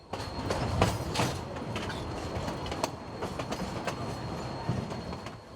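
A train rolls along mountain tracks near Toltec Gorge, a steady rumble with rhythmic clicks and clacks of the wheels over rail joints, moderately distant and consistent throughout.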